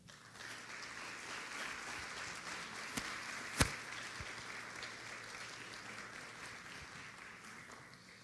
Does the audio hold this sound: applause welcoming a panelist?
yes